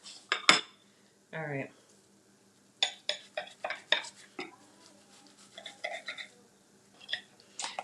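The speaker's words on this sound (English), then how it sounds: "I'm just cutting it into triangles to make it small" A knife cuts food into triangles on a board, giving a string of sharp knocks and scraping clacks against utensils in irregular bursts, close up, with a short spoken word partway through.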